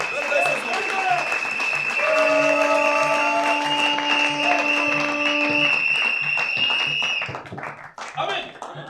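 A church congregation applauds loudly and steadily for several seconds, the dense clapping layered with sustained voices and tones before tapering off at the end.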